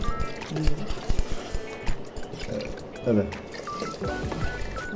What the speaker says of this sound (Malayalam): വെള്ളം ഒഴിച്ചു.